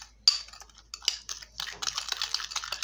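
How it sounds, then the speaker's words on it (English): A spoon clinks and scrapes in a small bowl, mixing lemon, sugar and turmeric in quick, close, irregular strokes. "You have to mix, let the lemon, the sugar, and the turmeric mix properly"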